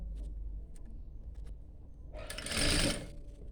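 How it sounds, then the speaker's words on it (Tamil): A sewing machine stitching fabric in a tailoring lesson, first quiet and intermittent with light ticks, then a short loud burst of rapid stitching near the end. "நான் ஃபுல்லாக ஸ்டிச் பண்ணிவிட்டு காட்டுறேன்"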